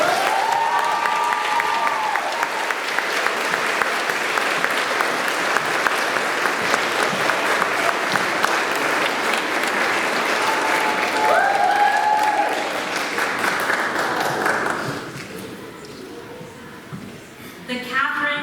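Sustained applause fills a hall at the Wheaton College 2024 honors convocation, a loud dense clapping that holds for about fifteen seconds before thinning out and fading, with voices faintly beneath.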